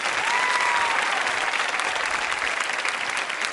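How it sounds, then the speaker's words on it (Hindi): Steady, dense applause fills the hall at a women's quiz show as the audience claps for a contestant, loud and unbroken throughout. "सना के लिए जोरदार तालियां बजाइए।"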